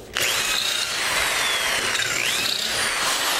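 A power drill bores a dowel hole into wood, starting abruptly then whining steadily with a rising and falling pitch sweep as the bit cuts, close and alone.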